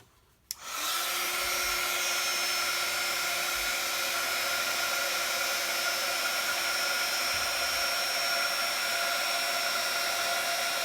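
A heat tool switches on abruptly and blows a steady, loud whooshing hum with a whine while heat-setting embossing powder on cardstock, sustained without pause and with no voices.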